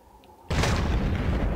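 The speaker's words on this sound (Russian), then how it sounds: "Сразу же, чтобы взрыв уничтожил нам и ящик заодно." A huge explosion blowing apart an iron-walled base in a survival video game, bursting in abruptly after a quiet start and sustaining a loud, dense roar of rumble and debris to the end.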